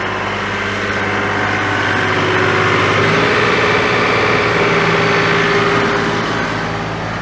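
Massey Ferguson 2600H tractor engine running at high RPM, a loud steady drone with a low hum that rises slightly partway through and holds constant, no talking.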